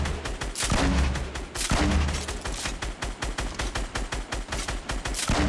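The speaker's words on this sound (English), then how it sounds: "They're just giving me spots to grenade launcher him in" Rapid explosive fire from a grenade launcher in Fortnite gameplay, with dense repeated booms and bangs in a quick rhythm, loud and close throughout without speech.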